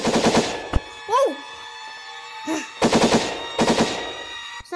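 Rapid automatic gunfire rattles in short bursts in the VR horror game Capuchin, three bursts separated by quieter gaps with a couple of rising chirpy squeaks between them, and a voice briefly exclaims.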